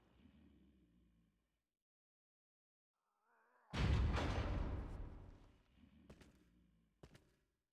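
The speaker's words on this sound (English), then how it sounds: "was his dynamite that I shot" A loud dynamite blast in the Resident Evil 4 video game, a sudden heavy boom that decays over about two seconds, followed by a few smaller thuds and clanks, with quieter game ambience before it.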